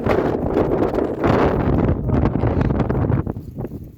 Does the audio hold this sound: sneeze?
no